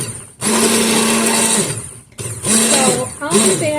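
Immersion blender blitzing a home-cooked soup of carrots, potatoes and broth, a loud steady whirring motor in two long bursts separated by a brief pause, with a shorter third burst at the end.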